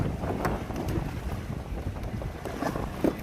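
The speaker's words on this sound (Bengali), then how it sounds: "আর আজকে অনেক বাতাস" Strong wind blows at sea where a man is fishing, a constant loud rush and buffeting against the microphone with no clear pauses.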